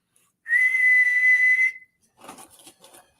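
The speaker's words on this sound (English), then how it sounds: "I need my little whistle back out here" A small whistle blown once in a clear, steady shrill tone lasting about a second, followed by a few faint short sounds afterward, alone without talk.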